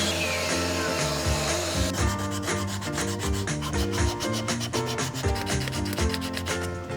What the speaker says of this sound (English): the next step would be sanding. And more sanding.